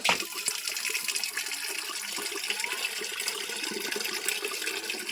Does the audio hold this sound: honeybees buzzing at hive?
no